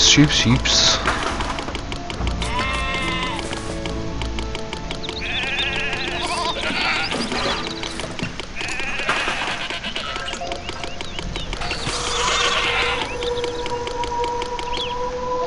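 Sheep bleat repeatedly in the city-building game Zeus: Master of Olympus, short wavering cries scattered across a busy layer of game ambience and music with someone talking over them.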